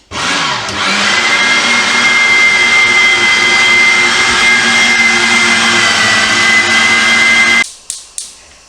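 A loud electric meat grinder runs steadily for several seconds, mincing carrots, onion and mushrooms for mushroom caviar, with a sustained whirring whine before cutting off abruptly, followed by a couple of sharp clunks.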